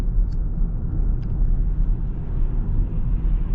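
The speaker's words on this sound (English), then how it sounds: "I like the sounds. It kind of sounds like a spaceship a little bit." Cadillac Optiq electric car on the move, a steady low whir and rumble with a faint futuristic hum, continuous and even throughout, with no talking.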